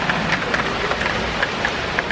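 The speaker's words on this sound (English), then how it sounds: "This is the rain." Heavy rain falls under a gray sky, a dense, loud, steady wash of drops close by with faint patters of individual hits and no talk.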